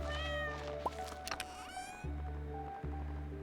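A cartoonish cat meows once inside the farming game Stardew Valley, a short pitched call over steady looping game music and ambient tones, with no talking.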